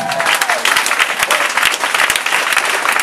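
A church congregation bursts into loud, dense clapping that carries on steadily from start to finish, close and filling the room.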